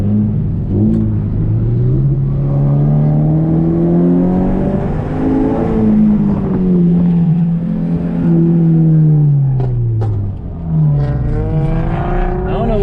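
A street-racing car engine revs and drones loudly through missed shifts into third gear, its pitch rising and falling in long sweeps for the whole stretch, with faint talk underneath.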